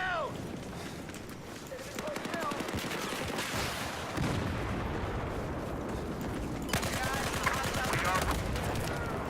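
Slow-firing gun in Battlefield 4, shots cracking one after another in a steady, unhurried rhythm amid ongoing battlefield noise, with a voice talking over parts of it.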